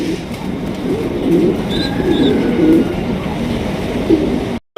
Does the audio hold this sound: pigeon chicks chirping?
yes